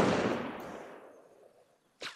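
A loud gunshot or blast from ArmA Reforger's combat booms at the start and decays into a long rumbling echo, followed by a second sharp report about two seconds later.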